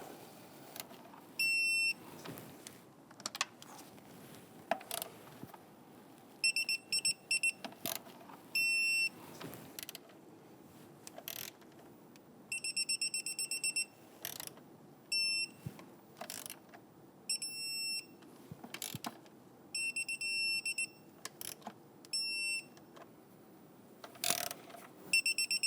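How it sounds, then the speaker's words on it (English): A torque wrench tightens bolts on the oil filter housing of a 2011-2021 Jeep Grand Cherokee 3.6L, with repeated ratcheting clicks and high electronic beeps in short bursts at a moderate distance. "Now I'm going to go ahead and torque down our bolts here."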